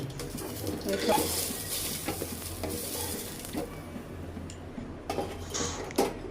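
Garlic and chili frying in a pan for dried fish bharta, a loud sizzle broken by stirring scrapes and clinks that thin out toward the end, with brief sharp spatter bursts.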